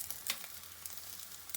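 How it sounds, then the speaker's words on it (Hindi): Eggs fry in a pan with a soft, steady sizzle and crackle and a few brief louder spits, with no talking. "चलिए इन्हें भी फ्राई कर लेंगे।"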